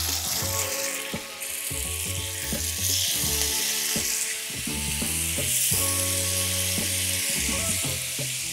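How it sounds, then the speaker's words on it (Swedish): Chicken pieces browning in a little oil in a frying pan over medium heat give off a steady, continuous sizzle from start to finish, with soft tonal sounds in the background. "Och sen så lägger jag ner kyckling."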